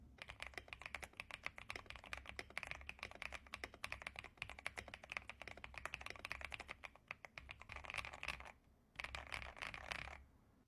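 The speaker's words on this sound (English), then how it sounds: "the Ajaz AK820 with PE foam, tape mod, and Gateron smoothies." Rapid, steady typing on an Ajazz AK820 mechanical keyboard fitted with Gateron Smoothie switches, PE foam and a tape mod, close and clear with a brief pause near the end.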